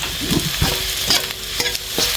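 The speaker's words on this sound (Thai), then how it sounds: "คนต่อไปสักพักนะครับให้กระทะมันเย็นก่อน" Chinese sausage sizzles in a hot pan without oil, gas off, while a utensil stirs and scrapes it in short, repeated strokes, close and clear.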